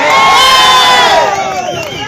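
A large crowd of supporters at a Tamil political rally cheers loudly, with overlapping shouts and high, wavering calls close by, forming a continuous roar that eases slightly toward the end.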